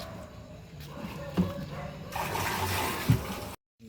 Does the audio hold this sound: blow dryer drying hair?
no